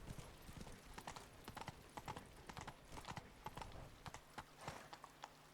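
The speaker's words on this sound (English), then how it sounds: "please tell me I can ride the horse inside" A horse's hooves clip-clop in a steady trotting rhythm in The Witcher 3: Wild Hunt – Blood and Wine, fairly close over a quiet ambient game background.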